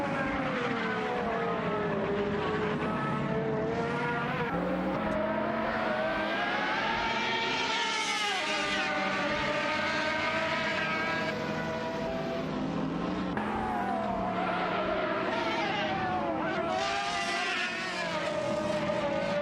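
Race car engines roar continuously in a racing video game, with a Grotti Turismo-style field including a Saline 7 twin-turbo, pitch rising and falling as cars accelerate and shift, loud and steady without pause.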